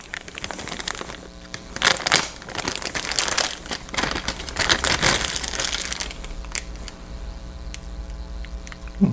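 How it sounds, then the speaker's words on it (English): A knife slicing open the plastic bag holding clear parts for a Trumpeter 1/32 EA-18G Growler model kit, heard as close crinkling and tearing plastic in several bursts, then quieter handling. "Grab my knife and slice this open."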